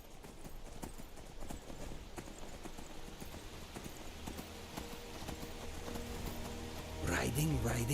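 Horse hooves clip-clop steadily during a ride through the Skyrim wilderness, a continuous trotting rhythm under ambient game sound that swells louder near the end.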